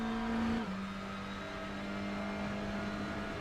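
A TCR touring race car in a sim racing game on the Nürburgring GP circuit runs through flat-out turn 13, its engine a steady high whine that drops in pitch once, then holds at a constant level.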